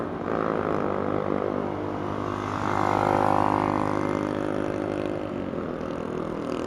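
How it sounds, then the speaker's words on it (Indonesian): Noisy motorcycles run nearby outside, their engines a steady droning rumble that swells briefly as one passes closer, then settles back to a continuous hum, with no speech over it. "motor di depan gua berisik banget anjir"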